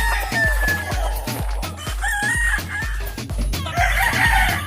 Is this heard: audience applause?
no